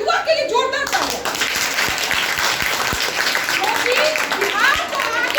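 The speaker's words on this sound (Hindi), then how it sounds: "बिहार के युवा के लिए जोरदार तालियां।" Enthusiastic applause from a school audience at a youth service event in Arrah, Bihar, steady clapping throughout with a voice speaking over it at the start.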